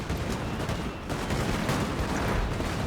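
Musket volleys from Napoleon: Total War fighting, with the Prussian side and young guard infantry engaged, crackle as a dense, continuous rattle of massed gunfire, steady and loud throughout with no voices.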